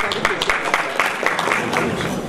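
An audience at a medical talk on infertility treatment bursts into applause, a dense patter of many hands clapping close by, steady and fairly loud throughout.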